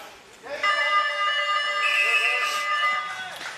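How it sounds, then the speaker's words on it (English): A loud, sustained buzzing siren marking the end of a quarter at a wheelchair Australian rules football game blares for about three seconds, steady and harsh, with faint crowd noise around it. "then that siren will go off"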